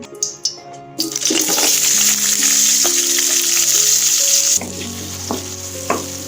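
Sambal ingredients hit hot oil in a pan and fry with a loud, steady sizzle that drops a step partway through, with a few utensil clinks before and during.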